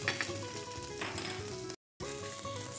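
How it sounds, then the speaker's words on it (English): Garlic sizzles and fries in hot oil in a pan, a steady, close crackling hiss that runs unbroken apart from one brief cut to silence. "I've heated up some oil in this pan, and now it's time to cook the garlic"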